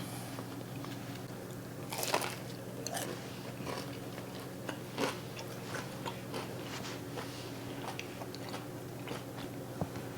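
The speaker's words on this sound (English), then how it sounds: "let's try that bread. I'm gonna dip a little of this inside that curry." Biting and chewing fried bread made with tallow and dipped in a turmeric-and-onion beef curry, with soft crunchy bites and steady close chewing over a low room hum, no talking.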